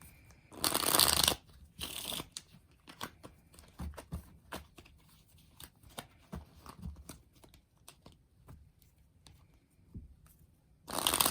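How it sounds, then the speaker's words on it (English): Tarot cards are shuffled in quick riffling bursts, with soft taps and shuffles between them; close and quiet, no speech. "I'll do a little bit more shuffling before I start"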